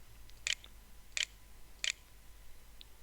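Computer mouse scroll wheel giving three faint, sharp clicks spaced evenly in a quiet room, with no talk.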